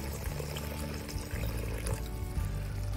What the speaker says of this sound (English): So I'm going to add just a touch of water into this, just to keep that level good.